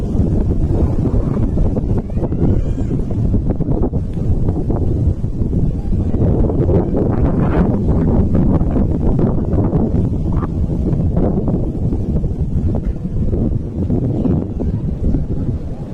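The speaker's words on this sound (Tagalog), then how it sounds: "Ganun katibay yung hangin na mga kapatid." Strong, steady wind roars and buffets the microphone throughout while pigeons fly in it, a continuous loud rumble with gusty rustling and no clear speech.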